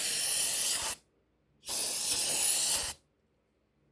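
Cleaner solvent sprayed from a can into a chainsaw spark arrester, two sustained hissing bursts of about a second each with a short silence between them, close by.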